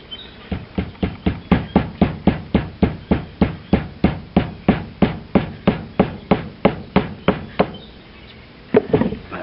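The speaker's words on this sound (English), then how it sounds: "Tap that down in there as well." A steady run of about twenty-three evenly spaced hammer taps drives a wooden piece down into the eye of a hatchet head during a repair. The strikes are close and sharp, with a short pause before a final double tap.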